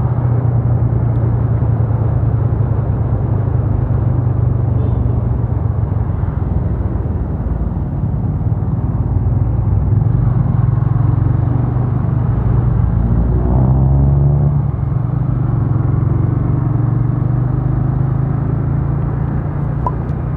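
A motorcycle fitted with a loud aftermarket racing exhaust rumbles steadily for about twenty seconds, a continuous, loud, close droning roar with no voices.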